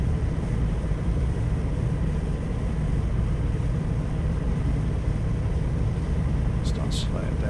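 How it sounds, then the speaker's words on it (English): A fishing boat's engine in the video game Fishing North Atlantic, running at night: a steady, heavy low drone that continues without a break, with a brief faint click near the end. "Start slowing down the engine."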